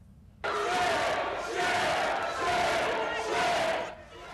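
A hostile crowd of protesters shouts in a legislative building after an overnight vote on collective bargaining rights, the loud roar starting abruptly and swelling in waves.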